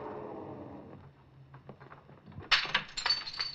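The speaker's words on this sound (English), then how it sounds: "Then I heard that shattering of glass." Small glass window broken with a gun butt: a thump followed by a sharp crash of shattering glass and scattered tinkling fragments, fairly faint and brief.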